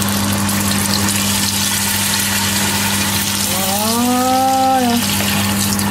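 A litre of water poured onto browned meat in a pot for Japanese curry: a steady hissing pour over a low electrical hum, with a rising whine near the end and no talking.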